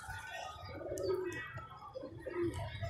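Soft, low cooing of a sick pigeon, a few warbling coos close by over steady background noise.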